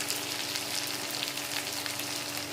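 Steady sizzling and crackling of garlic and shallots sautéing in a hot pan, continuous and close, with no talking.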